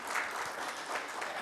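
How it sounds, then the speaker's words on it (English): Audience applause at an HR management summit in a conference hall, a steady wash of clapping from many hands that fills the short stretch without pause. "Please give a big round of applause to Dr."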